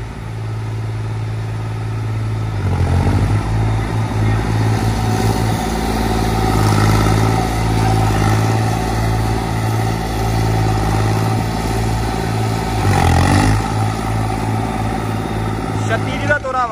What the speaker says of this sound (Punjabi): ਦੋਵੇਂ ਟਰੈਕਟਰਾਂ ਦਾ ਪਹਿਲਾ ਹਾਈ ਤੇ 2000 ਚੱਕਰ